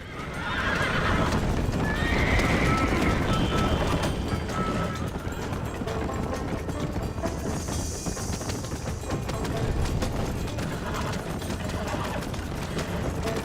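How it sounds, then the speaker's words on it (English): Horse in Red Dead Redemption galloping with rapid, steady clip-clop hoofbeats and occasional whinnies, loud and close over dense game ambience, with no talk. "Respeita que aqui é o cavalo Senna."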